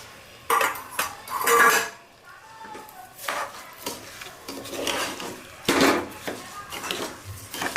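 Spoon stirring soaked rice and steamed vegetables in a metal pot for masala bhat, with repeated scraping and clanking strokes in uneven bursts, close and fairly loud, with no talk.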